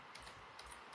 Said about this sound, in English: There's so much typing going on.